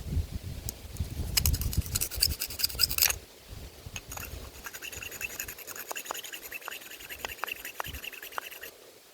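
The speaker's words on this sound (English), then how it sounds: "I've got a sharp rock here. See if we can take off some of the stone wash." Sharp rock scraped along the stonewash finish of an Esee AGK knife blade, giving a run of short, dry scratching strokes, louder and rougher at first, then a lighter series of quick scrapes.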